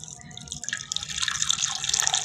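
Water splashes and drips from a tap into a sink as someone washes face and hands, a close, steady patter of droplets and trickling that grows busier, with no talking.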